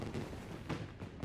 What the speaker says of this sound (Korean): 잠시 후 폭죽 소리에 정신을 차리는 요시다